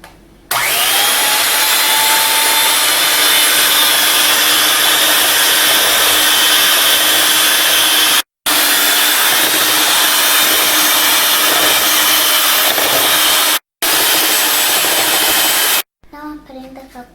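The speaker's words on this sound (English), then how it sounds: "Now start your blender." A kitchen blender whirs loudly while mixing eggless vanilla cupcake batter of oil, yogurt and water, running in long continuous bursts with two brief stops before winding down.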